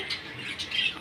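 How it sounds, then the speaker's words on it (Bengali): Pet munia birds calling, a few faint, short high chirps close together within a single second. "আমার পাখিগুলো ডাকাডাকি করছে"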